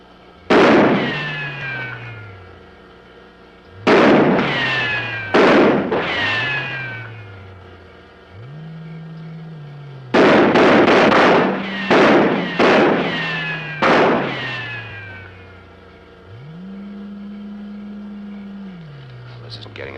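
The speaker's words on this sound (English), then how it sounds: "Go ahead, Corporal. Fire a few rounds." Soldiers fire a few rifle rounds in a 1950s science-fiction film: sharp, loud bangs in irregular bursts of two or three shots, each with a short ringing tail, over a low droning tone.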